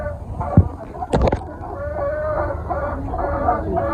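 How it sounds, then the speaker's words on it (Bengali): Desi and tiger chickens gathered together in one pen, clucking and murmuring continuously at close range, with one brief sharper squawk near the start. "মানে দেশি মুরগি আর টাইগার মুরগি, অনেকগুলো মুরগি হয়ে গেছে এখানে।"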